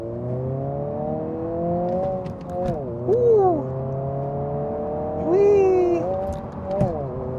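A 2024 Honda Civic Si with a six-speed manual transmission revs and accelerates, its engine drone climbing steadily and dropping at each gear change, with excited exclamations from occupants inside the car.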